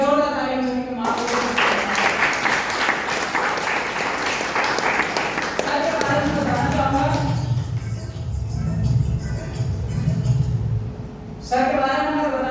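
Applause from an audience at an AWPL business meeting, a dense wash of clapping heard alongside a speaking voice, with a louder, busier stretch toward the middle.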